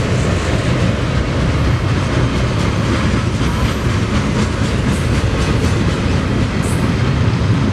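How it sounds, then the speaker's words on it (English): A BNSF double-stack container freight train passes close by, its wheels clattering over the rails in a loud, continuous rhythmic roar with a faint squeal. "Yep, we have a container train."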